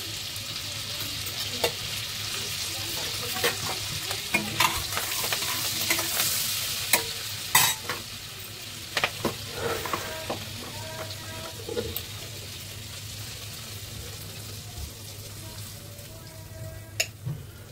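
Dal and cumin seeds sizzle steadily in hot oil in a pan, with scattered pops and crackles and occasional spoon scrapes and clinks over a constant frying hiss, close and fairly quiet, with no talking.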